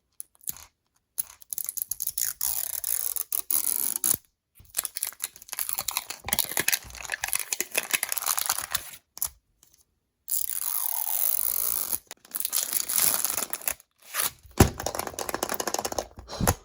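Crackling, crinkling plastic noises in bursts with brief pauses as a Disney Store Mini Brands plastic capsule ball is pried and cracked open up close; no talking.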